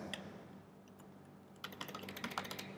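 Quiet keyboard taps on a computer while coding a Laravel website: a few scattered keystrokes, then a quick cluster of clicks near the end, close and soft against a faint hum.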